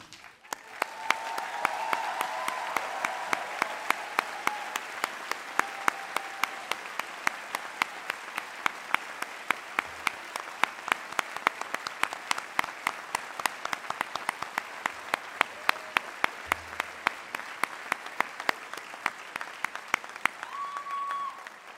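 A university commencement audience greets the graduating classes with long, sustained applause, a dense wash of many hands clapping steadily at a moderate distance for over twenty seconds with occasional louder nearby claps.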